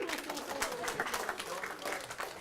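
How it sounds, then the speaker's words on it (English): Children in a school library applaud after a Star Wars theme, a dense patter of claps spread evenly across the room with light chatter mixed in. "give it a big round of applause"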